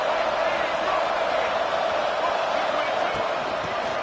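Crowd noise in a packed football stadium during a Florida versus Ole Miss game, a constant loud roar of many voices with no distinct breaks.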